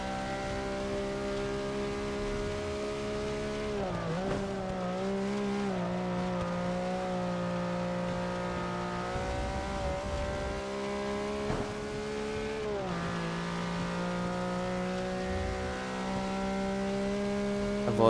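Race car engine in Forza Motorsport 6 racing in wet weather, a steady high drone that dips sharply and recovers at two gear shifts, loud and continuous with no talk.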